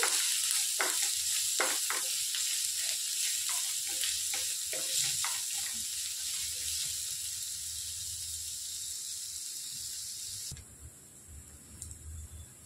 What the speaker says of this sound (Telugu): ఇందులోనికి సన్నగా తరిగి పెట్టుకున్న ఉల్లిపాయలు వేసేసుకోవాలి. బాగా ఫ్రై చేసుకోవాలండి